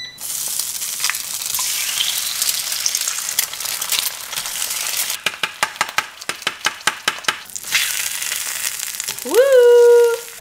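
Turkey sausage and eggs fry in a breakfast pan, a steady sizzle broken by a quick run of sharp taps or scrapes, ending in a rising beep-like tone.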